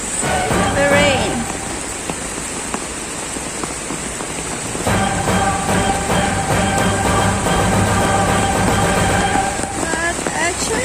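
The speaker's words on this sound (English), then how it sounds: "The rain." Steady rain patters down throughout a nature walk at Bukit Brown, a dense, even hiss of drops on surfaces close around, with some faint tonal background sounds but no clear talking.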